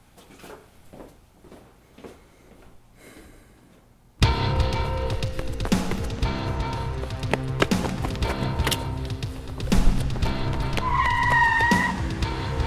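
After a quiet stretch, a car chase erupts suddenly: engines roar loudly and tires skid and squeal in long sweeping screeches, with bangs and impacts scattered through the continuous noise.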